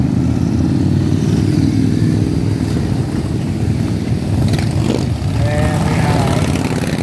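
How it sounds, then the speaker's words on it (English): Motorcycles ride in to an outdoor car meet held as a fundraiser, their engines a steady, loud low rumble that continues throughout, with faint crowd noise and a brief whine near the end. "More bikes coming in."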